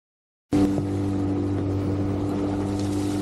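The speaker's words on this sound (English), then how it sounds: "The boat rides really well on the water." A 2022 Lund Fury 1600 tiller boat's outboard motor starts up abruptly after a moment of silence, then drones steadily and close with a strong tonal hum and water hiss beneath it.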